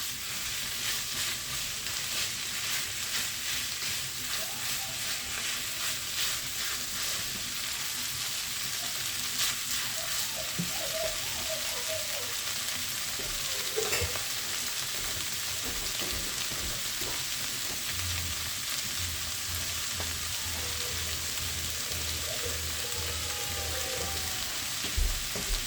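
Keema frying in a pan with nuts and corn mixed in, its liquid cooking off in a steady, close sizzle that runs continuously with occasional stirring scrapes and a low hum beneath.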